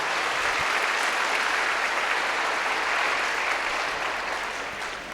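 A church congregation applauds in a dense, even wash of clapping that stays strong throughout and tapers slightly at the end, with no voices over it.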